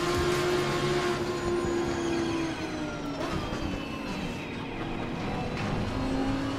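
Race car engine in a racing simulator played on a Yaw VR2 motion cockpit, a steady loud drone with pitch rising and falling through gear changes, tire and road noise underneath.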